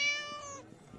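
A single cat meows once, a short clear tonal call close by that fades out, followed by faint room noise.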